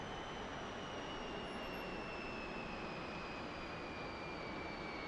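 A MiG-15bis jet engine in the DCS flight simulator spooling down to idle, a steady broadband roar with faint high whining tones gently falling in pitch.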